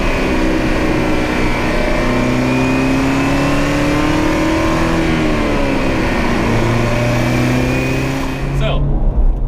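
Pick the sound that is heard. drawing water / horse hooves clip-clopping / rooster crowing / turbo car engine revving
turbo car engine revving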